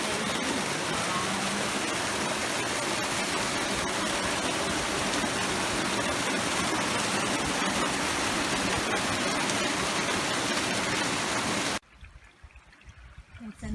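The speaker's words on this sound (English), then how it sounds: "We have a natural waterfall here." A natural waterfall in the Greek countryside rushes in a steady, loud broadband roar close by, then cuts off abruptly to quiet near the end.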